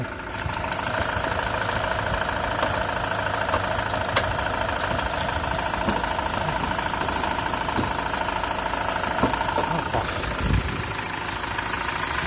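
A steady, close idle from an Iveco Daily 35 van engine, with a low continuous rumble and faint rhythmic knocking, plus a brief clunk near the end.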